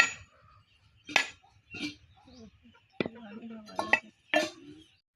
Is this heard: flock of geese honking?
no